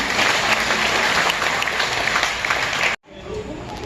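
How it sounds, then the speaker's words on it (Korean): An outdoor crowd at an agricultural college sports day in Pyeongtaek bursts into loud, dense applause, which cuts off abruptly near the end and gives way to quieter ambient noise. "다시 한번 큰 박수 부탁드립니다"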